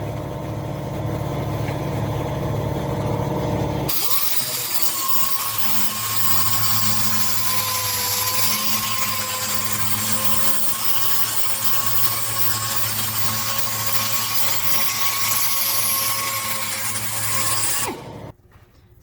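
A power sander smooths a surface, running steadily with a loud, sustained whirring drone for about fourteen seconds after an abrupt start, then cutting off near the end.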